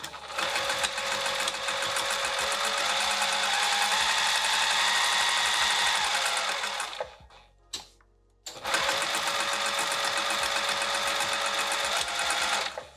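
A sewing machine stitching fabric for a roll up wrap, a loud, close, steady high-speed whirring hum, briefly stopping with a click before starting up again and running on.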